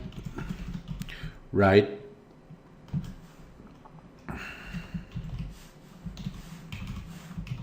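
Computer keyboard keys click in short irregular bursts while someone writes JavaScript code, with a person talking over the typing.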